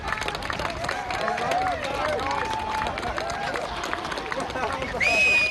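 A crowd turns out in Wanaka to welcome home Olympic bronze medallists, a steady busy hubbub of many voices with scattered clapping and cheering, with a brief louder tonal sound at the very end.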